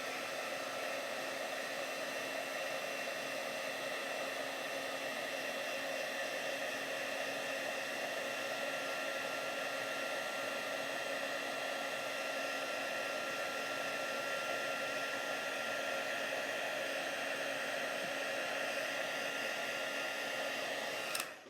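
A heat tool for crafting blows hot air onto a card label, giving a steady, even whoosh with a faint whine that runs unbroken and alone for about twenty seconds before cutting off.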